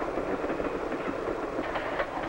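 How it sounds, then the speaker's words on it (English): A passenger train rumbles steadily through a mountain tunnel, a continuous broad roar with faint rhythmic clicking of wheels on rail joints, close and even throughout with no voices. "And sometimes the train goes through the mountain itself,"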